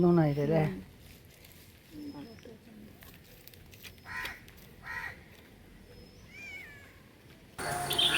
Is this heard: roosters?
no